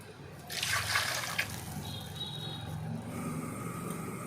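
A small amount of water poured into a hot frying pan gives a brief splashing hiss early on, followed by a softer, steady bubbling simmer, close and without speech.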